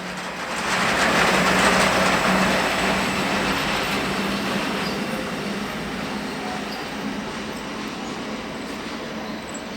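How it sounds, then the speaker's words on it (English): A BLS Class 465 and Class 485 locomotive pair rolls past on a Swiss main line near Olten, a loud sustained rumble and rushing wheel noise that swells early and then holds steady as the train keeps passing. "A Class 465 and 485 combo here, both locos belonging to BLS."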